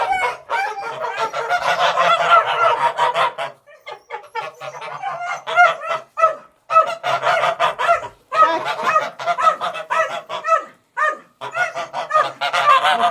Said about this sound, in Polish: Chodźcie gęsi.